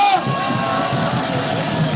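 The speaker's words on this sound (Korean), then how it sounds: "우리 트러스 포럼에게 박수 한번 부탁드립니다." A crowd at an outdoor veterans' rally cheers and shouts in a brief, busy burst, with whoops and mingled voices over a continuous murmur and little distinct clapping.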